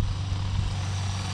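A cheap RC truck's electric motor runs at full throttle on a 3S LiPo battery over wet pavement, producing a loud, continuous buzzing drone that holds steady throughout.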